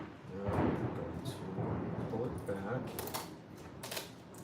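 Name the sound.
thunder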